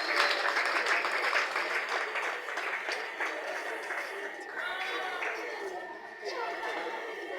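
Parents applaud at a school event, a dense patter of clapping from a crowd mixed with murmured chatter, tapering slightly toward the end.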